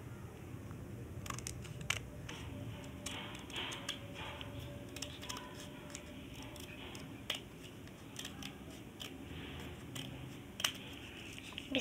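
Scissors snip through paper while a paper bookmark is made, giving quiet scattered cuts and ticks over a low background hum, with no one speaking.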